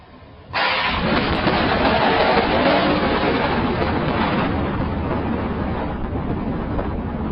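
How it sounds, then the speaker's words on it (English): A sudden loud blast from lightning striking an electric fence bursts in after a brief quiet moment, then a sustained roaring rumble that continues at high level, like a thunderous explosion. "a powerful lightning strike hits an electric fence, unleashing a deafening explosion that shakes the surrounding air like thunder"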